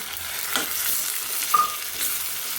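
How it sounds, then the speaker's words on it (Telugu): Chopped tomato frying with ginger garlic paste in a pan, a steady close hiss of sizzling with a couple of soft scrapes from stirring. "ఒక టమాటా ఈ విధంగా కట్ చేసుకుని వేస్తున్నానండి"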